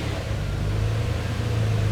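A Nissan Xterra engine idling with a steady low drone and a constant hum, loud and close throughout, with no starting crank audible.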